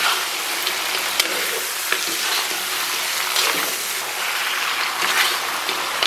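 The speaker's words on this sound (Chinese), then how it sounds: "把牛肉给它下里边，然后把牛肉给它煸炒一下" Beef stir-fried in a wok over low heat gives a steady, dense sizzle with occasional sharper crackles from the spatula, close and fairly loud.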